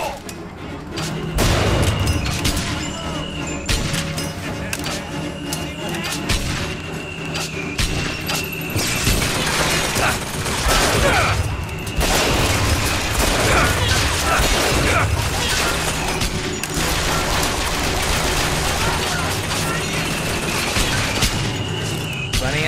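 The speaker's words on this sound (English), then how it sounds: "What the hell is shooting at me?" Dense gunfire and impacts in the shooter game BioShock Infinite, continuous loud bursts, booms and mechanical clatter over the whole stretch, with brief voice fragments buried in the din.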